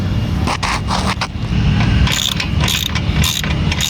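A ratchet wrench clicks and grinds close up, loosening a sway bar bolt on a 2023 Chevy Colorado Trail Boss, in irregular bursts of rapid pawl clicks and metallic scraping over steady workshop noise.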